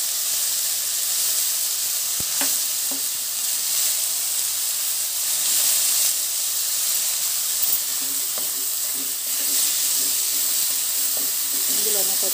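Chana dal fries in oil with cabbage, giving a constant close hiss and sizzle with occasional small pops and faint utensil taps.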